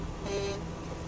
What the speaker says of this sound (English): Hit the horn.